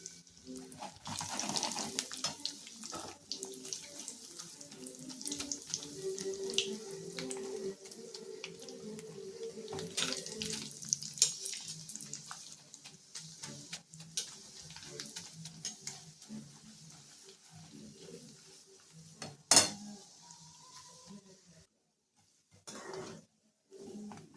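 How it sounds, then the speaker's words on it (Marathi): Coconut slices frying in hot oil for a Diwali puffed-rice chivda, a steady crackling sizzle with a few utensil clinks that thins out and drops away near the end. "आता आपल्याला खोबरं तळून घ्यायचं आहे"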